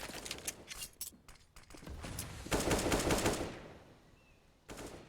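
Rapid automatic gunfire bursts from a Counter-Strike: Global Offensive match on Inferno, a pro esports game between Gambit and NAVI, with several sharp volleys and a sustained loud burst midway, then a final short burst after a brief lull.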